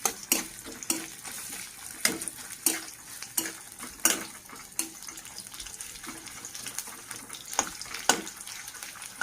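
Chopped onion gets stirred in a pan, with sharp spatula clacks against the metal at uneven intervals over a faint, low sizzle, close by and fairly quiet.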